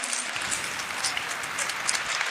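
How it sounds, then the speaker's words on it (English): A crowd at a community gathering gives a round of applause, a loud, continuous wash of many people clapping at once, even and dense from start to finish with no talking over it. "I want you all to give this man a round of applause"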